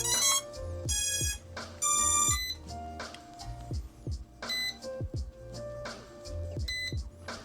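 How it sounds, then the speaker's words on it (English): A Ruko U11MINI drone and its controller power on with a series of bright electronic chime melodies and beeps, several tonal jingles in close succession, loud and near, with no talking. "Then we're gonna turn the drone on."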